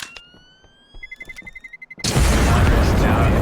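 In Counter-Strike on the Nuke map, a rapid series of electronic beeps gives way to a loud, sustained explosion blast that fills the rest of the moment.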